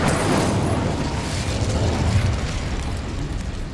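Incendio fire spell cast in Hogwarts Legacy, a loud, continuous whooshing blast of flame with a rumbling low end that fades slightly toward the end, with no talking.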